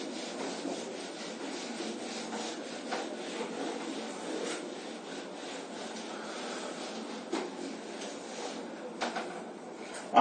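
Writing is rubbed off a board in a chemistry lesson, making a steady, close, dry scrubbing that runs unbroken for about ten seconds, with occasional louder strokes.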